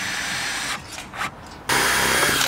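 A power tool drives a screw fixing into a softwood rafter on a two-storey extension build, with a steady whirring burst near the start, a short dip, then a louder sustained drive.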